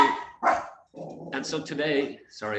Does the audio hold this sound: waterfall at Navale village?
no